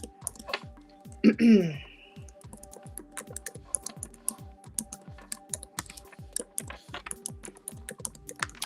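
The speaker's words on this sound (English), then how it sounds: "I'm typing still, you all." Steady keyboard typing with rapid clicking keystrokes throughout, fairly close; a brief voice-like sound breaks in early on.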